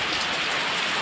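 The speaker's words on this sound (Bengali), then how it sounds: "বৃষ্টি নেমেছে।" Rain falling steadily outdoors, a dense, even hiss of drops that fills the whole moment at constant loudness, with no voices.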